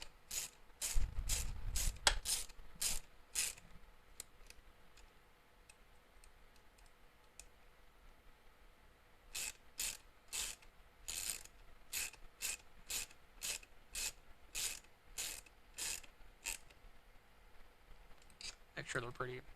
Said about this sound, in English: using the 3mm Allen wrench and your wrench, you're going to go ahead and tighten these all the way